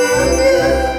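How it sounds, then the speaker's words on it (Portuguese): A cartoon telephone in a Pocoyo episode rings with a loud, bright, sustained bell-like electronic tone that holds steady for about a second, with no voices. "E quando eu termino, o telefone toca."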